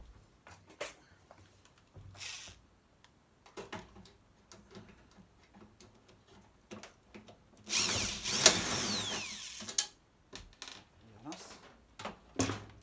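Bolts are unscrewed with a power drill while an Italian microwave is taken apart, heard as short scattered clicks and taps, then a louder sustained whirring burst in the middle, close up.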